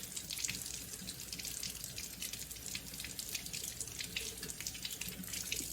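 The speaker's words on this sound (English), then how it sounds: "Once you have your water running, you want to make sure that your fruits and vegetables are going under the water" Water runs steadily from a kitchen tap while fruits and vegetables are rinsed under it, a constant splashing hiss with no talking.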